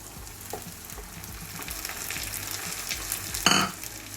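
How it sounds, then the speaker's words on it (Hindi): Tomato paste going into frying mushroom masala in a pan, a continuous moderate sizzle with light stirring and a sharper burst of hissing near the end, no voices. "अब इसमें हम टमाटर का जो पेस्ट लिए थे वो डालेंगे।"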